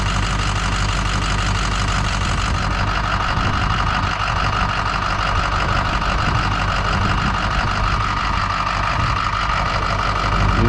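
Idling 2007 Ford 6.0 diesel truck engine with the EGR disconnected, a continuous loud low rumble with steady clatter, unchanging throughout and heard alone.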